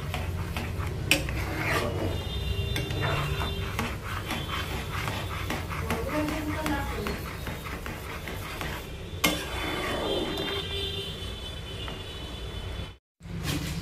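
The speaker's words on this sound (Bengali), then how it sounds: "নেড়ে চেড়ে এটাকে একটু মিশিয়ে নিচ্ছি।" White sauce with a melting cheese slice being stirred in a pan for an egg dish, a steady scraping stir with soft clinks of utensil on metal and a faint sizzle underneath, continuous and close, with a brief silent gap near the end.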